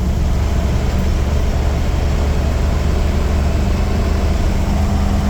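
Car with a 460 EFI engine pulling steadily in fourth gear, a loud, continuous low engine drone holding an even note from start to finish with no pauses.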